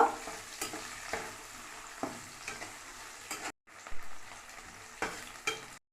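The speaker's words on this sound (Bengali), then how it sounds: "পেঁয়াজ দিয়ে একটু নাড়তে থাকবো" Onions fry in oil with garam masala and dried chilies, with a soft sizzle and repeated spoon scrapes and knocks against the pan; the sound briefly cuts out twice.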